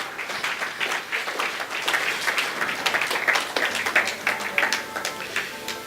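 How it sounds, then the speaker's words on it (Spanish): A church congregation applauds for Jesus during a Spanish-language sermon, sustained clapping from many people with sharp individual claps standing out, lively and close, with no one speaking. "Dele un aplauso a Jesús"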